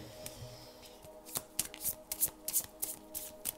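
Tarot cards are handled and shuffled close up, soft riffling and slapping bursts building into a quick run of crisp shuffles, with no talking.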